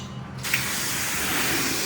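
High-pressure spray from a self-serve car wash wand in Florida, a steady broadband hiss of water that starts abruptly and holds loud and close without pause.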